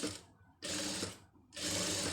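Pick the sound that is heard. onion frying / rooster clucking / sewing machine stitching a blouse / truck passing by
sewing machine stitching a blouse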